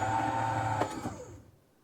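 A Bambu Lab P2S 3D printer with an AMS Pro runs close by in a steady whirring hum, with a couple of brief clicks near the end before the motor noise fades away into quiet.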